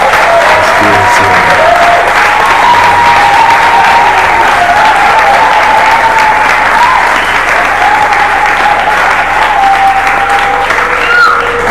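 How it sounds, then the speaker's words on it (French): A church congregation applauding together, a loud, dense and sustained wash of clapping that fills the whole stretch, with a faint voice and some tonal background sound running underneath. "je voudrais d'abord que vous applaudissiez pour vous-même."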